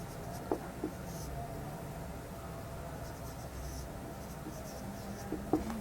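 Chalk or marker scratching across a board during an Urdu class lecture, a faint steady scraping with a few soft taps, no talk over it.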